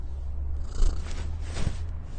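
A house cat purring close by, a low, continuous rumbling drone with slight swells, steady and soft with no voices.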